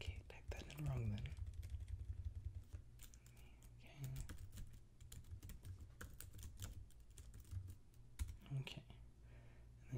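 Soft, close keystrokes patter on a computer keyboard in uneven bursts with brief pauses, with quiet, barely audible murmuring in places.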